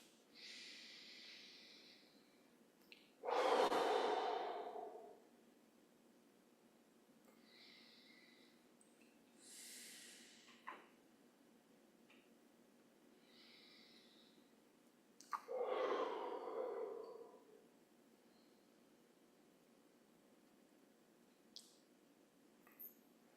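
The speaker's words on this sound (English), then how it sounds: "We'll take 3 deep breaths." Slow, deep breaths in a quiet meditation setting, long airy inhales and exhales drawn close and fairly loud, spaced apart with calm silence between them.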